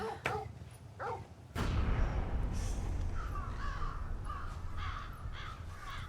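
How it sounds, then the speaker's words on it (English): Crows or vultures cawing in the Final Fantasy XVI video game, several harsh calls repeating over a steady low rumble of game ambience, with a couple of dull thumps early on. "Those are some fat crows. Actually, those aren't crows. Those have got to be vultures."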